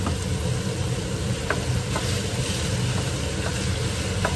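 Ground meat and ketchup stirred in a hot pan: a continuous close sizzle with a few faint scraping strokes of the utensil, no voices.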